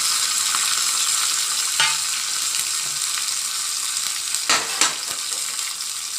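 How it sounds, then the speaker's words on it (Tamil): Green chillies, curry leaves and fresh green peanuts sizzle steadily in a pan, a continuous close frying crackle with a few brief stirring scrapes and clinks, no voices. "இதை நல்லா கொஞ்ச நேரம் வதங்கட்டும்."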